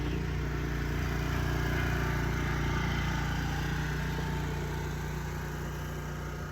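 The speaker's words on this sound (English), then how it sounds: "Now someone's mowing the lawn" A lawn mower runs nearby in a park, its engine a steady, unbroken drone that holds a constant level from start to finish, with no voices over it.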